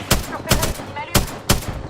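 Gunfire in the video game Apex Legends: four sharp, loud bursts spaced roughly half a second apart, each a short crack with a brief tail, heard close and alone.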